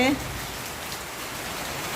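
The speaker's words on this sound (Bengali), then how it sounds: "দেখো কেমন দারুণ বৃষ্টি নেমেছে" Heavy rain pours down steadily in a dense, even hiss, with a brief voice at the very start.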